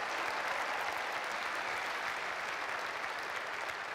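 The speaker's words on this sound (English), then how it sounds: "Let's give the 4 co-founders a big round of applause to change all our lives." Audience applause in an arena for four company co-founders, a steady wash of many hands clapping at even loudness throughout, with no voices standing out.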